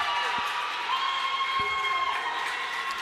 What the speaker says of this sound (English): Spirited crowd here tonight.